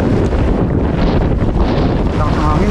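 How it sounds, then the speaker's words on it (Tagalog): Strong wind buffets the microphone at a rocky fishing spot reached by a hike, a loud, continuous low roar with gusty surges throughout. "Lakas ng hangin."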